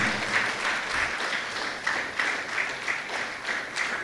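An audience at a national financial literacy conference in 2024 breaks into applause for a speaker, a dense, even patter of many hands clapping, moderately loud and unbroken.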